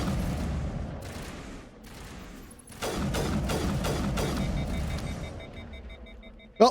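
Rapid bursts of turret fire during on-foot combat in Mass Effect Legendary Edition, a dense run of loud repeated shots that swells in the middle and ends in a sharp blast.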